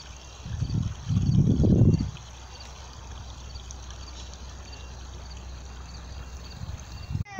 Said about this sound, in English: That's all the water pouring out.